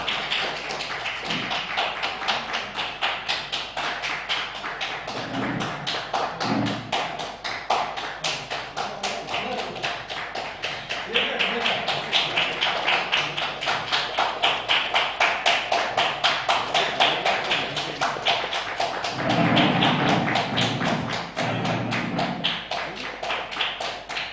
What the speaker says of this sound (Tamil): அனைவரும் கொஞ்சம் கைத்தட்டி உற்சாகப்படுத்துமாறு கேட்டுக்கொள்கிறேன்